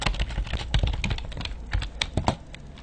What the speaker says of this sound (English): Then we start typing in commands and we tell it what we want it to do.